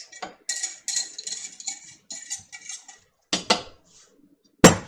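A spoon stirring thickening mock lemon pie filling in a pan, with close scraping strokes and soft metallic clinks in short irregular bursts, ending on a sharper knock, with no talk.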